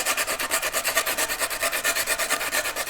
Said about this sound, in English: So I can just run that over with a bit of emery to deburr that edge